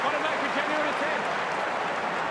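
Dense, steady roar of a large football crowd at an AFL match between Collingwood and Port Adelaide, loud and continuous with faint shouts rising out of the din.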